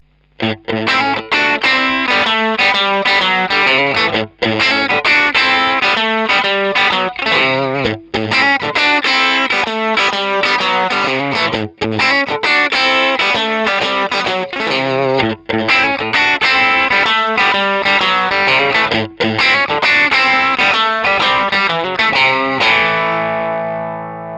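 Overdriven electric guitar through a Fender Deluxe tube amp playing a continuous bluesy riff, gritty and loud, with brief pauses between phrases and a ringing final chord.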